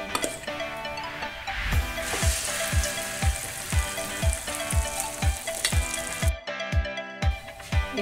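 Potato omelette (tortang patatas) frying in a pan: a steady, close hiss of sizzling oil runs throughout, accompanied by a regular thumping beat.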